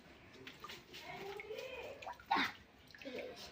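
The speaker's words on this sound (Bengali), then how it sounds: "এই দেখো এখানে অল্প অল্প করে জল পড়ছে" A thin stream of water trickles from a tap into a bucket in a home, a soft splashing heard under a person talking nearby.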